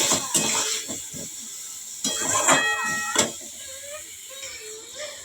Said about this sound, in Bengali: এবার আমি মশলাটা ভালো করে একটু ভাজা ভাজা করে নিই।